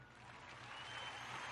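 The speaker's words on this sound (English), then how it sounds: "I can make everybody applaud." Faint applause from a sound-effect button, a soft, dense wash of clapping that swells slightly over its short run, with no voices over it.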